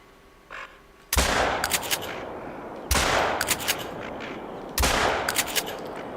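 Three loud shotgun blasts ring out at evenly spaced intervals during a duck hunt in theHunter: Call of the Wild, each with a sharp crack and a lingering echoing tail. Faint duck calls sound briefly before the first shot.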